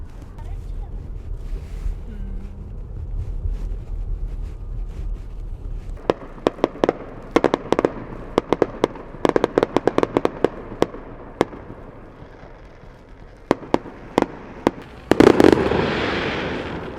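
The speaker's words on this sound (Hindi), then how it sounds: "आतिशबाज़ी अभी भी मुख्तलिफ़ जगहों पे चल रही है" New Year fireworks burst outdoors in the USA as sharp, scattered cracks and pops, sparse at first and then in rapid clusters before a louder final volley, heard from a moderate distance over a low background hum.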